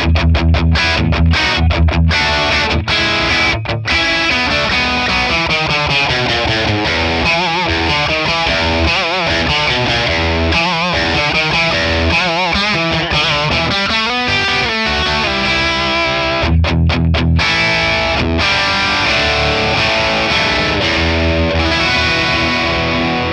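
A Telecaster electric guitar played through a captured Friedman PLEX amp at crunch gain, with raised input gain and no reverb, rings out in a continuous, loud, distorted riffing passage full of strummed chords and choppy muted stabs.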